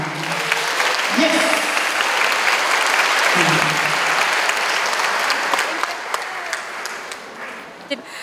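An audience applauds at the opening of a movie screening, dense sustained clapping from a large crowd that stays loud most of the way before thinning toward the end, with a few voices heard underneath.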